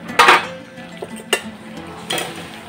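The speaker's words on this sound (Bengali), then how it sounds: "ঢাকনাটা খুলে দিচ্ছি।" A metal lid lifted off a cooking pot of boiling papaya gives a loud clattering clink near the start, followed by a couple of lighter metallic knocks and another clank toward the end.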